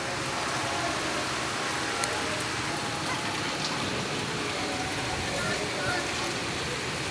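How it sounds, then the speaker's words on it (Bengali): Light rain falling outdoors, a steady, even hiss of drops with occasional faint patters, continuous and moderately close throughout. "একটু বৃষ্টি নামতেছে কিছুক্ষণ হলো আমাদের এখানেও"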